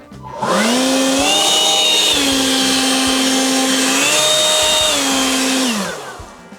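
Dnipro-M leaf blower in turbo mode clearing a pile, a loud steady motor whine and rushing air that ramps up, holds with slight pitch shifts, then winds down after about six seconds, no talk.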